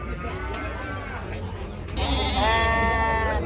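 Sheep bleat loudly and close by, several wavering cries overlapping, while people haggle over prices in the background amid general livestock commotion at Shayman livestock market, Jomboy district, Samarkand.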